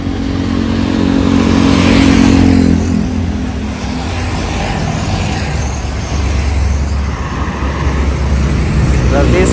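A Safari Satria Muda bus pulls in along a busy road, its engine a steady close rumble blended with passing traffic and some background voices.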